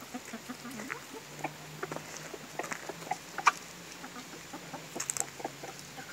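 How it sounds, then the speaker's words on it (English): Backyard homestead chickens cluck and scratch in short, scattered bursts, with a large hen close by over a faint outdoor background and no talk. "She's one big chicken."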